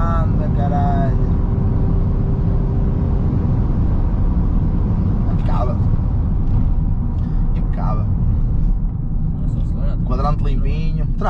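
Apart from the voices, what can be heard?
Seat Leon 2.0 TDI car driving uphill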